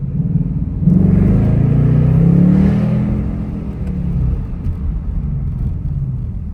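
A 2025 Ford Mustang GT V8 pulls away at night, its deep engine note swelling to a loud peak mid-clip and then settling into a steady, rumbling cruise heard from inside the cabin.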